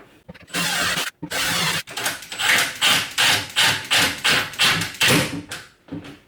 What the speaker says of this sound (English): I'll pre-drill it and then screw it all in.